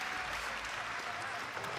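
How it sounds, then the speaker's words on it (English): Crowd cheering and applauding at an X Games Norway men's skateboard street qualifier, a steady wash of distant, faint cheering with a commentator talking over it. "You heard the crowd get a little bit louder."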